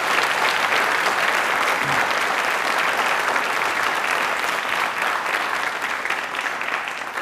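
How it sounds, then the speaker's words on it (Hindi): A studio audience at a Doordarshan Rajasthan Hindi quiz program applauds loudly, a thick unbroken wash of many hands clapping that holds steady for several seconds, with no talk over it. "अपने लिए एक बार तालियाँ जोरदार बजा"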